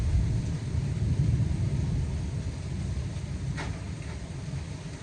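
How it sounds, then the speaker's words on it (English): Deep, steady thunder rumbles through a powerful thunderstorm, a continuous low roll that stays loud for several seconds and eases slightly toward the end, heard alone with no voices. "The storm is back. So yeah, it's a powerful storm."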